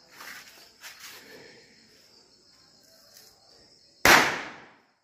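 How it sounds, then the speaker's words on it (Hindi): A single firecracker bursts with a sharp, loud bang at a Dhanteras celebration, following several seconds of faint hissing and quiet outdoor ambience. "अभी सारे पटाखे फोड़ लिए हैं"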